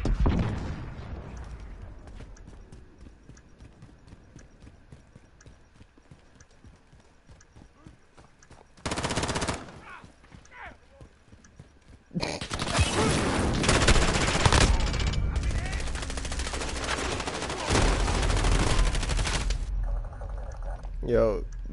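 Video game gunfire: a sharp blast, then sustained bursts of rapid automatic shooting in the second half, loud against a quieter background, with someone talking at times.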